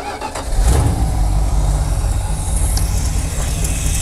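An old Dodge Power Wagon truck is started without pumping the pedal, the starter cranking briefly before the engine catches and settles into a loud, rough, steady idle close by.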